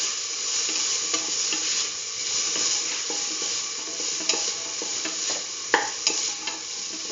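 Chayote pieces being stirred and fried in a pan with sauce, a steady loud sizzle with scattered scraping knocks of the utensil against the pan, close up throughout.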